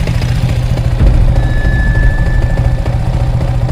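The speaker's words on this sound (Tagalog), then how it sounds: "Baka naka idle rumble yung motor natin." Yamaha M9 Sniper 155 motorcycle with a stock engine idling with a lumpy rumble, a loud close steady pulsing throb that carries on without a break and has no talk over it.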